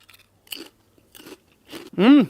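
French cheese flavored Lay's potato chips being bitten and chewed up close, a few sharp crunchy bites spaced apart, followed by a brief voiced sound from the person eating.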